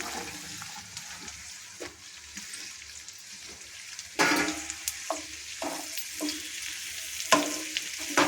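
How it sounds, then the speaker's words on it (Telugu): Okra pieces frying in a pan for a pickle, a steady broadband sizzle with occasional stirring scrapes that grow louder and more frequent in the second half; no voices. "మెండకాయ ముక్కలు బాగా వేగాలి ఒక మూడు నాలుగు నిమిషాలు పడుతుందండి ఇది వేగటానికి"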